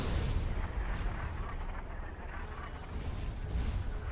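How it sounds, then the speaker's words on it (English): Artillery fire rumbles in a Supreme Commander 2 match, a dense, low, continuous barrage of distant booms with a few sharper bursts. "The artillery aren't really hitting them."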